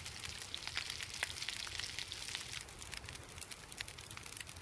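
Food sizzles as it cooks in The Long Dark survival game, a dense, steady crackling hiss that runs unbroken under no talk.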